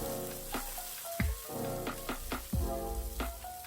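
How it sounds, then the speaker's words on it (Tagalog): A chicken broth cube dissolves as it simmers in a pan, giving a close, steady sizzle and bubbling broken by several sharp scrapes and knocks of stirring, with no voices. "isi-simmer lang natin to hanggang matunaw yung cube"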